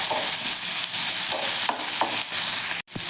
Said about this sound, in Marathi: आता त्यामध्ये आपल्याला शिमला मिरची घालून घ्यायची आहे, मिक्स करूयात